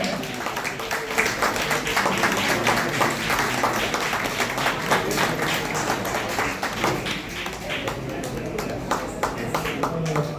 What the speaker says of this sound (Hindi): जोरदार तालियां साथियों